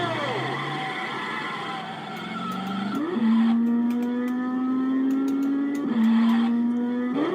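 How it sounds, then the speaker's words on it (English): Bugatti Type 59 race car engine in a retro racing video game, a steady synthetic drone that rises in pitch through the gears, with two sharp shifts and a high whine above, loud with no talk. "The engine sound effect on this one reminds me of a Formula 1 car."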